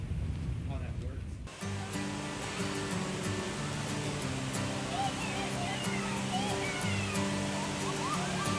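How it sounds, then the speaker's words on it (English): A big waterfall in Texas roars steadily and continuously, with faint tones ringing over it. "Oh, there is a big waterfall."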